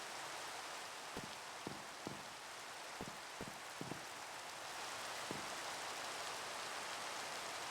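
Rain falling in the Minecraft modpack Nomifactory, a steady soft hiss of rainfall with a few faint ticking drop sounds, continuous and quiet, no voices.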